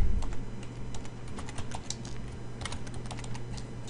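Steady computer-keyboard typing while a station name is entered during a Shoutcast radio setup, with irregular clicky keystrokes close to the mic, some pauses and then faster bursts over a low hum.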